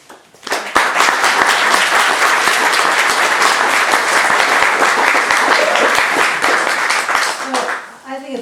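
A memorial audience breaks into loud, sustained clapping that swells quickly, holds dense and even for several seconds, then tapers off as a voice begins at the end.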